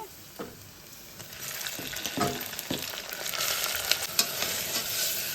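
Finely cut tomato pieces fry in a pan with onions and green chillies, a steady close sizzle with spatula stirs and scrapes that grows louder and more crackly as the cooking goes on.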